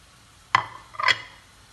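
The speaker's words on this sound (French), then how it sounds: "Je vais mélanger tous les légumes ici." Two brief clinks and scrapes, half a second apart, as carrots, courgettes, onions and parsley are mixed in a bowl for sardine kefta; close and fairly quiet against a silent background.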